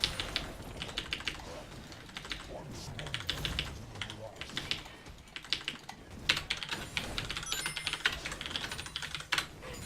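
Rapid, uneven clicking of keys on a computer keyboard, close and continuous, in bursts with brief pauses.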